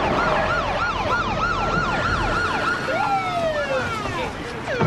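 A police car siren wails loudly and close, cycling rapidly in a yelp pattern before shifting into slower rising-falling sweeps as the vehicle moves.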